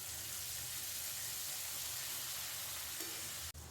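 Onion-garlic paste with spices frying over a high flame gives a steady, dense sizzle that fills the whole stretch, with a brief stir near the end. No one speaks.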